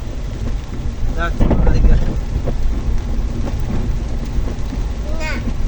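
Steady rain pouring with a low rumble beneath, loud and close, with a few faint tonal chirps drifting in near the end.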